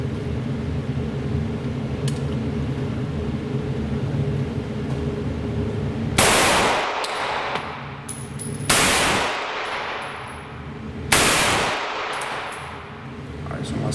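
Three loud, sharp shots from a CZ Scorpion fired at a target while a Romeo 5 sight is zeroed, spaced a couple of seconds apart over a steady background hum.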